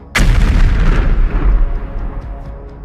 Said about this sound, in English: The explosion was devastating.